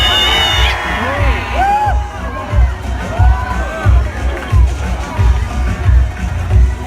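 A large audience at the Miss Universe 2017 national costume show cheers, whoops and shouts in swelling waves, loud and continuous crowd noise with a host's voice faintly beneath.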